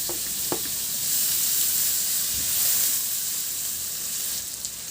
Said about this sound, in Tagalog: Sa kawali naman, magtunaw muna ako ng butter, mga 2 tablespoon lang, at igisa ko na yung bawang